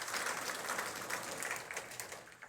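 Applause from a church congregation, a brief, even patter of many hands clapping together, fairly faint and heard at a distance with no voices over it.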